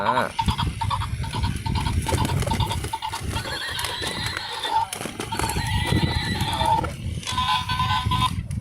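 A toy horse gives repeated electronic neighing and whinnying sounds, loud and close, with people talking throughout in a beach sandbox play setting.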